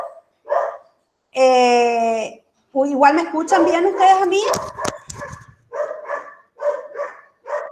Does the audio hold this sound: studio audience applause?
no